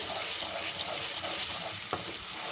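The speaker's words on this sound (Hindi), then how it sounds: "अब इसके अंदर हम ये थोड़ा सा और पानी डालेंगे ताकि हमारा मसाला नीचे ना लगे" Water is poured into masala frying in a pan while baingan salan is cooked, producing a steady, broad hiss and sizzle that holds at one level throughout, close and moderately loud, with no talking.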